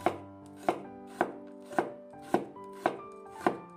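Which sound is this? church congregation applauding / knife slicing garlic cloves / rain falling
knife slicing garlic cloves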